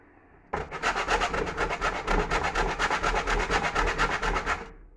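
A wedge of Stilton cheese, firm after being left overnight, is grated in a fast, even rhythm of rasping strokes that go on for several seconds, close and fairly loud, with no talk.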